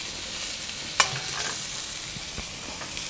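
Soaked, toasted rice is tipped into boiling coconut milk with lemuni leaves and stirred, a sharp scrape or clink followed by soft sloshing stirs over a constant simmering hiss.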